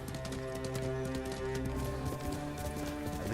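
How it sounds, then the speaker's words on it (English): Rapid, rhythmic hoofbeats of a horse galloping in Ghost of Tsushima, dense and continuous at moderate loudness, layered with ambient game sound. "I think you call it the horse Nomu."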